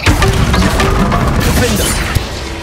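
A Bombarda blast spell detonates in Hogwarts Legacy, a loud booming crash with crackling, shattering debris that fills the whole moment, close and heavy.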